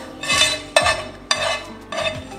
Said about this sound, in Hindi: मैं डालती हूँ ऑनियन जो हमने ब्राउन कर लिया है